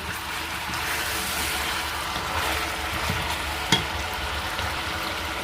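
Onions and chillies hit hot rendered duck fat in a pan, making a constant, dense sizzle close by, with one brief sharp clink partway through and no talking.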